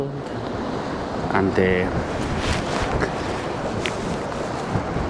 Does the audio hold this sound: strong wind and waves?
yes